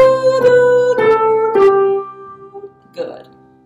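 One voice sings the upper four notes of a major scale as a second tetrachord, three held tones followed by a softer, shorter fourth after a pause, close and unaccompanied.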